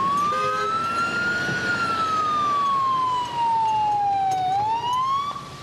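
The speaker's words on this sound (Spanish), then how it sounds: "Enciendo las luces y la sirena y el tráfico simplemente desaparece" An ambulance siren on a taxi converted into an ambulance wails continuously, its pitch rising and falling slowly over traffic noise at moderate distance.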